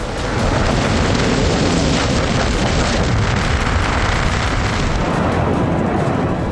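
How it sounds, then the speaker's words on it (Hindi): A sustained, loud roar of missile explosions and blasts during an Iranian midnight attack on Tel Aviv, Israel, a dense continuous rumble without pause, heard alone with no voices. "आधी रात को धमाकों की गूंज सुनाई दी"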